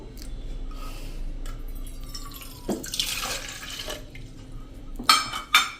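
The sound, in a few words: water being poured into bowl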